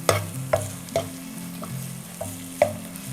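Crushed ginger sizzles in a hot pan, a steady frying hiss broken by several sharp stirring clacks of a spoon against the pan, close and without voices.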